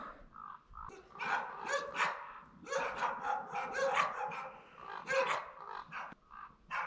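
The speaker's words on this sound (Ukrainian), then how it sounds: "на мене біжить зграя собак" A pack of about eight dogs barks together in open countryside, overlapping yaps and barks piling up continuously, fairly close and loud, with a few growls mixed in.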